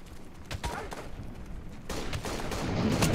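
Gunfire in the military shooter Operation Flashpoint: Dragon Rising, scattered shots crackling at a distance and growing denser and louder toward the end, with faint voices underneath.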